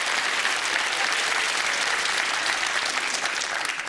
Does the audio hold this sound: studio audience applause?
yes